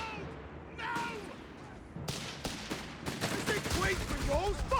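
Gunfire from a Company of Heroes 3 battle between Wehrmacht and British forces, a run of sharp shots and bursts building in density, with game effects and a commentator talking over it.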